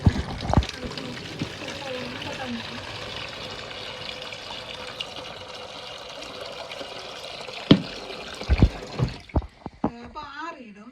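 Water pours and trickles into a container, with a voice speaking over it and a few clinks and splashes near the end.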